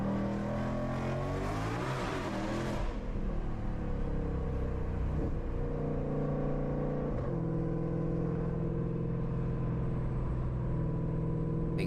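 A 1400-horsepower Shelby GT500 Mustang, not stock, revving in traffic, with a rising supercharger-like whine over a deep rumbling engine that swells early and then holds a loud, steady drone.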